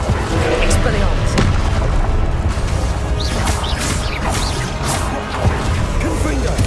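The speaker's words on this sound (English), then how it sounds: "Expelliarmus!" Expelliarmus spell cast in the video game Hogwarts Legacy: a loud, dense barrage of magical booms, crashes and whooshing swishes with sharp impacts throughout, and a voice calling out over the effects.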